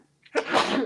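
One person lets out a single sudden sneeze, a brief sharp intake followed by a loud, breathy burst close to the microphone.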